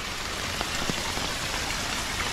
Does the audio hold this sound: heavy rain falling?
yes